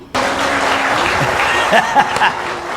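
Steady audience clapping at an Independence Day celebration with soldiers, loud and sustained through the whole stretch, with a few voices and cheers mixed in.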